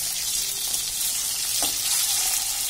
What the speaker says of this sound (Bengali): ডিম আমি ভীষণ কড়া করে ভাজি না, তাহলে কুসুমটা শক্ত হয়ে যায়।